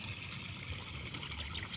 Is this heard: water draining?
yes